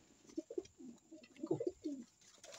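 A pigeon coos softly several times in a low, throaty rhythm, close by and quiet, with no other sounds around it.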